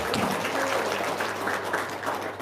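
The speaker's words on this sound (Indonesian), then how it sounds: "tepuk tangan dulu dong" Audience applause at a motivational seminar, a steady wash of clapping held at even volume for a couple of seconds, fairly close, with faint voices mixed in.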